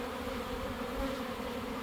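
Honey bee swarm buzzing, a dense steady drone of many bees heard close and continuous, with no voices.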